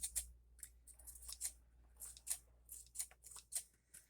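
Close, crisp snips of scissors cutting paper, a series of short irregular cuts with brief pauses between them, no talking.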